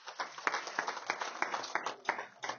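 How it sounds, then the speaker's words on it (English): A college audience applauds at a fall state-of-the-college address, a steady patter of many hands clapping at moderate volume for under three seconds, with no one speaking. "So give yourself a round of applause for that."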